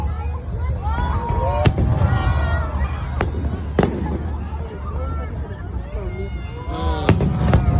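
Sinulog festival fireworks over Ayala Center Cebu: rapid crackling bursts and sharp booms, several standing out loudly, over a continuous din of an excited crowd with voices calling out nearby.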